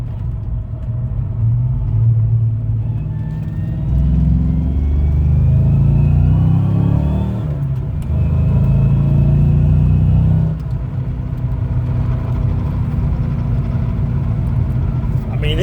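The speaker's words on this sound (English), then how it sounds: "I'm going to give it a little gas. You kind of hear it rumbling." A car engine rumbles deeply while driving, its pitch climbing and dropping as the gears shift down through third and second, with a voice talking over the steady low drone.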